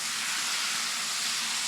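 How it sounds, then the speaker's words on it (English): Butter sizzles on a hot Blackstone flat-top griddle under a cooking burger, a steady, loud, broadband hiss close to the surface with no talking. "You can hear that sizzle."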